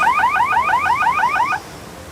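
A loud electronic buzzer ends a run at a junior and cadet freestyle kayaking national team trial, a rapid warbling pulse lasting about one and a half seconds before cutting off into faint background noise.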